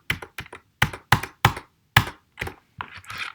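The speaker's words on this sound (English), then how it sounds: "Let me type on my own keyboard" Computer keyboard typed on while writing code, heard up close as short bursts of crisp keystroke clicks separated by brief pauses, with no talking.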